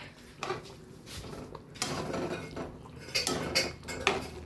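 A spoon scrapes and knocks against a cooking pot while beef curry is stirred, giving irregular clinks and scraping strokes with faint sizzling in between.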